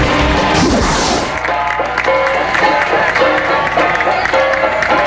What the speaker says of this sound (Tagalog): hiyawan at palakpakan